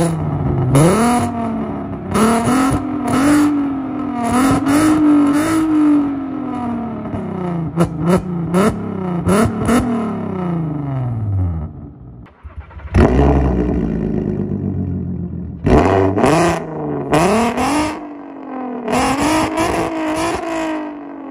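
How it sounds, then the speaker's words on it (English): A 2007 Volkswagen Golf R32 Mk5 engine fires up and revs repeatedly, the sport exhaust with valves closed rising and falling in loud roaring bursts, with a brief lull before more sharp revs. "I'll start it up first with the valves closed, then I'll do another one with the valves open"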